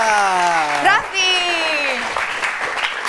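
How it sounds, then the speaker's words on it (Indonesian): A studio audience applauds Luna Maya on an Indonesian TV talk show, a broad wash of clapping that rises after a rising musical sting and continues steadily under the fading music. "Tepuk tangan sekali lagi untuk Luna Maya"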